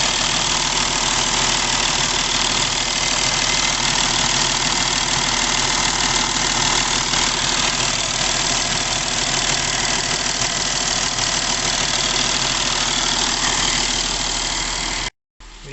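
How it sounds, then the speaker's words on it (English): An Audi Q7 3.0 TDI diesel engine idles steadily for the whole stretch, a loud, close, even rumble with a knocking diesel clatter and no talk, cutting out briefly at the very end. "Now we'll just start the engine, let it run for a few minutes."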